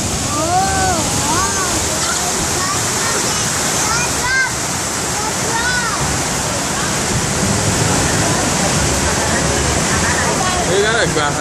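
Loud, steady rushing and splashing water on the Splash Mountain log flume ride at Magic Kingdom, filling the whole clip up close, with excited riders' voices and shouts faintly riding over the roar.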